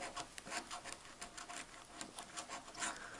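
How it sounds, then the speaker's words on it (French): Scratching an FDJ Cash scratch-card lottery ticket, a close, steady dry rasping of a coin over the card surface in quick repeated strokes, heard alone. "On va attaquer le troisième ticket à gratter."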